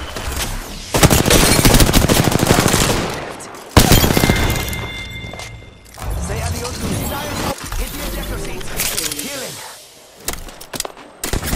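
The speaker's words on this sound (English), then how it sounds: "They're shooting at me." Rapid gunfire bursts in an Apex Legends firefight, loud and close, with bangs and sharp thuds in between and a few brief pauses. A player's voice talks over the shooting.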